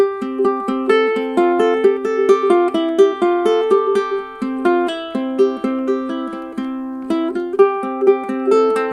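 A ukulele picked near the bridge plays the fiddle tune Over the Waterfall. The bright, twangy notes are steady and rhythmic, with a plucked attack on each one, and the melody carries on without a break and without any voices.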